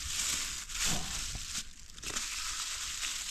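Plastic bag being untied by hand, giving soft, irregular crinkling and rustling close to the microphone, with brief louder crumples over a steady background hiss.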